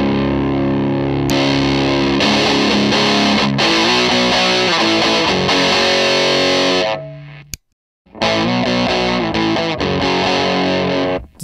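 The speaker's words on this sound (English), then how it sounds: "you can add a blast of distortion to your sound, using this little switch in the down position" Guitar played through a Classic Drive overdrive pedal with its distortion boost switch down, giving loud, saturated distorted chords that ring out, cut briefly to silence near the end, then resume.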